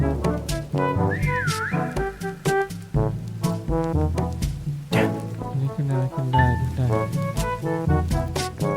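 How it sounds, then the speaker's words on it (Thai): Loud whistling sounds inside a Prop Hunt video game, a sweeping melodic whistle that rises and falls over busy, tonal game sounds running continuously. "มีคนมาพอดีวะโอ้โหผิวปากดังซะด้วยวะ"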